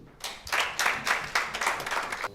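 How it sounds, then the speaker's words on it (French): An audience at a constitutive general assembly applauds with close, fairly loud clapping that pulses in a steady rhythm for a couple of seconds. "des acclamations pour Jean-Claude aussi"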